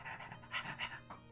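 A person imitates a dog panting with rapid, breathy huffs, about five bursts in quick rhythm, close and fairly quiet with no other talk.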